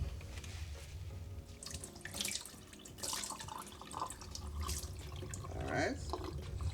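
Tap water runs into a kitchen sink as lentils are rinsed, a steady splashing gush with drips and swirls of grains shifting in the stream, close by, with a voice briefly heard over it.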